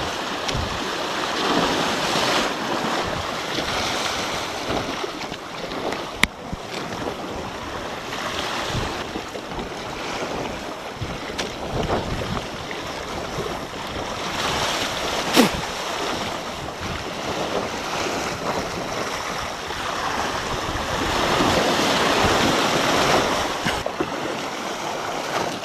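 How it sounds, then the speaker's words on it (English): Ocean swell and surf wash steadily around a small boat at sea, a continuous broad roar of water with gusting wind buffeting the microphone, swelling louder toward the end. "Another big swell behind us."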